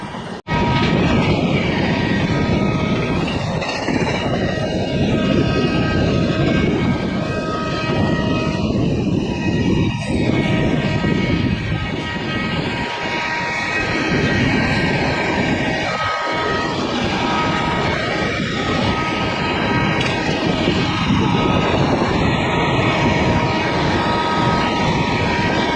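The New Delhi–Dibrugarh Rajdhani Express, train 20504, runs at speed, a loud, steady, unbroken roar of wheels and rushing air with a faint rattle throughout.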